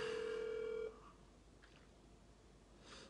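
A telephone call being placed to call someone back, with a steady electronic tone sounding for under a second before cutting off, then a quiet line with faint background noise.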